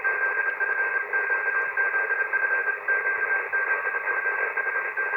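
Receiver audio from an Icom IC-7300 with its noise blanker switched on, a steady band-limited hiss and static with a faint constant tone, continuous and unbroken throughout.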